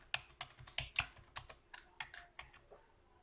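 Soft, distinct keystrokes click one after another on a computer keyboard while a password is entered, about a dozen taps in an uneven rhythm, close and alone.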